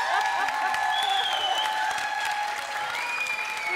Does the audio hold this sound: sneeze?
no